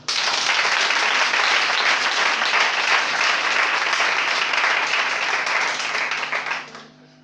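A church congregation bursts into loud, dense applause that holds steady for several seconds, then quickly fades away near the end.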